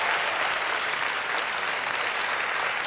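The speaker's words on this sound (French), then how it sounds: "vous pouvez l'applaudir" A studio audience applauding on a live French television show, a dense, steady wash of clapping that holds for the whole stretch without a pause.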